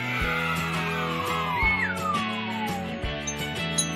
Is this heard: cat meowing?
yes